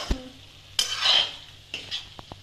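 A spoon scrapes and stirs through chicken pieces in a pan, with a few sharp metallic knocks and a soft sizzle between strokes.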